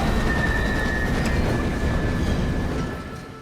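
A train rolls in along a station platform, a steady loud rumble of wheels and carriages with a faint high squeal running through it, easing off slightly toward the end.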